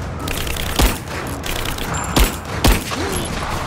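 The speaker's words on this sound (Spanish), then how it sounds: "Disparo en la cabeza." Gunshots ring out in Rise of the Tomb Raider during a headshot: three sharp, loud cracks spaced a second or so apart, cutting through a dense backdrop of game ambience and distant action.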